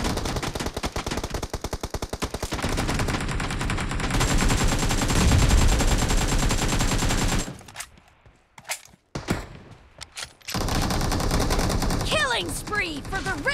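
Rapid automatic gunfire in the mobile battle royale game BGMI, dense continuous bursts of shots followed by a quieter gap, then more firing with game effects layered in.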